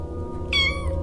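A kitten behind a school gives a single clear, rising-then-falling meow near the listener, over a steady low background hum.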